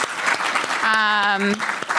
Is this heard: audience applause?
yes